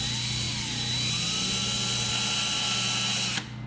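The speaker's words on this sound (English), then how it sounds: "So I have my drill bit in nice and tight." A power drill runs continuously, driving a bit into a boat seat mount during a bass boat seat install, a loud, steady motor whine with faint pitch dips that cuts off abruptly near the end.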